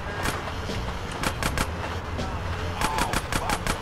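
Rapid bursts of gunfire in GTA San Andreas Definitive Edition crackle in quick clusters over a constant rumbling background, loud and fairly close.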